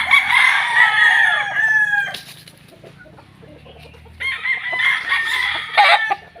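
Gamefowl roosters at a gamefarm in Pampanga, Philippines, crow loudly and close by. A long crow is followed by a quiet pause, then bursts of clucking and another call.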